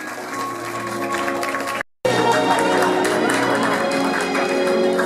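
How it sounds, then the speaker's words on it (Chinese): Wedding guests applaud as the groom's parents are welcomed to their seats, a steady, dense wash of clapping and crowd noise that carries on without a break except for one short gap. "我们是不是用掌声来欢迎我们的黄爸爸、黄妈妈入席？"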